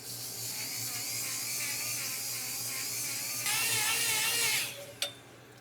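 Electric drill spinning a cylinder hone inside a 351W stroker engine block, a steady high whirring grind that shifts pitch partway through, then winds down and ends with a brief sharp clack.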